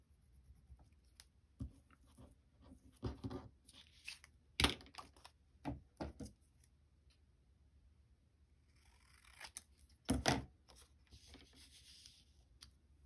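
Scissors cut a shabby-chic paper file-tab embellishment in a quiet room. There are scattered close snips and crisp paper rustles with silent gaps, and two sharper clusters of cuts in the middle and near the end.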